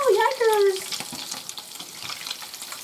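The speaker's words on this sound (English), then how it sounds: "Have a splatter of oil." Hot oil crackles and spits in a pan as fish is fried for blackened cod and salmon tacos. A voice speaks briefly at the start, then light, irregular sputtering pops continue close by.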